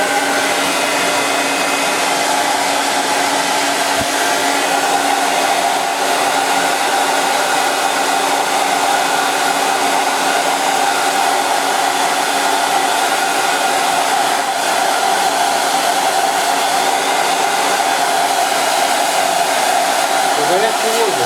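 A continuous, loud whirring roar of a hot air blower drying a disposable medical mask, running steadily close by without a break.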